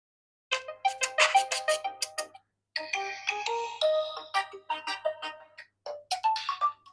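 An Itel Super 26 Ultra phone plays its ringtone: bright chiming melodic notes in quick bursts, with a short pause, then another phrase, clear and alone.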